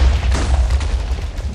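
TNT blowing up in Minecraft, a loud, close, deep rumbling boom with crackling bursts that fills the whole short moment, with no talk over it.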